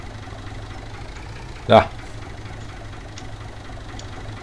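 A tractor engine idles in Farming Simulator 17 on the Fichtelberg map, a low, steady drone that runs throughout, with one brief spoken word near the middle.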